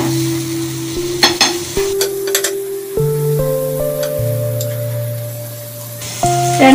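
A potato sandwich toasts in a buttered pan with a soft, continuous sizzle and a few scraping stirs, heard under steady held musical tones.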